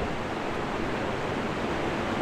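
River water rushes steadily in a broad, dense roar, loud and close, with no change in intensity and no voices over it.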